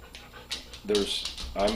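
A pet dog pants in quick, breathy bursts close to the microphone, mixed with soft whimpers, while people talk nearby.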